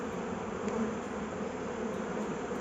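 A dense, continuous buzz of many honeybees in a hive fills the space up close, a steady droning swarm with no pauses.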